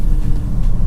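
A 2020 Audi S6 Avant diesel accelerating hard in dynamic mode, its engine giving a deep, steady rumble that stays close and loud throughout the brief moment, with no voices.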